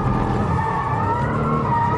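Porsche GT2 RS 2011 sports car engine pulling under light throttle in second gear through a turn, a loud, steady, rising drone with harmonic whine heard close and alone, no talk.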